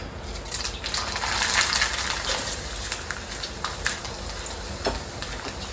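Vegetables frying in a pan over a lowered gas flame, a steady close hiss and sizzle throughout with faint crackles, no talking.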